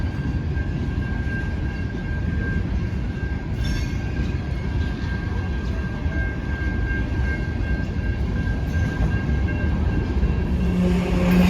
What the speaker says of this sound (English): The train hadn't completely cleared the crossing yet